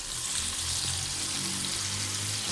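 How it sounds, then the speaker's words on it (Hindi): Bitter gourd (karela) stuffed with chana dal fries in a pan with a close, continuous, even sizzle and no pauses. "और अच्छे से दोनों साइडों से फ्राई हो जाए।"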